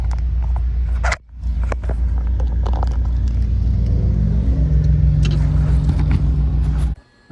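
Bugeye Subaru WRX STI engine idles rich, a deep, steady burbling rumble heard up close and fairly loud, with a couple of brief handling bumps interrupting it.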